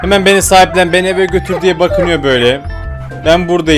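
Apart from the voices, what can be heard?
No distinct noise like a dog, phone or traffic.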